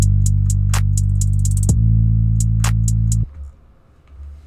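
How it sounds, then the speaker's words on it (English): Deep sustained synth bass in a pluggnb beat holds long notes under crisp hi-hats and snaps, sliding down in pitch midway before cutting off near the end, loud and full. "and the bass sounds like this."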